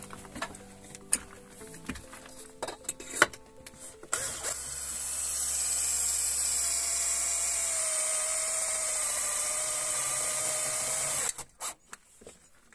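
A power drill running continuously for about seven seconds with a high steady whine, preceded and followed by clattering handling noises during a greenhouse build in a former pig house.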